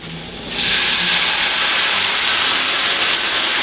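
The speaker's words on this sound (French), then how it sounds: "on déglace vin blanc" Sizzling hiss as white wine hits butter and sweated shallots with chopped tarragon in a hot pan, starting abruptly and holding as a steady, close, loud broadband fizz.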